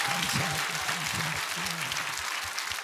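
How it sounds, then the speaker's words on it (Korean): Church congregation applauding together at a Sunday worship service, a dense steady wash of clapping that fills the space from start to finish. "So let us give a round of applause of gratitude."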